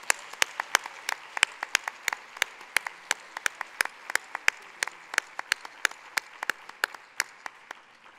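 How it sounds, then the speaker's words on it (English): Applause from a small conference audience at a UN NGO closing ceremony: a thin scatter of sharp, individual hand claps keeping a fairly steady pace, moderately close, with no talking. "I hope you'll give a rousing applause for our team just one more time"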